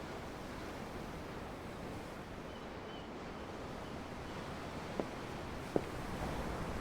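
Steady broadband wash of ocean waves and surf in the video game Tales of Arise, a continuous low rushing roar with wind-like hiss and two brief faint clicks near the end, no voices.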